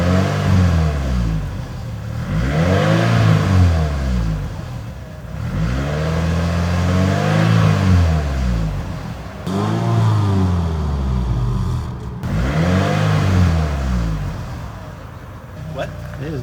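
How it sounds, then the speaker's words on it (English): Car engine fitted with a newly installed muffler revs repeatedly in four swelling bursts, each rising and falling in pitch, loud and close, with brief dips between. "Can you rev it so I can hear it out here?"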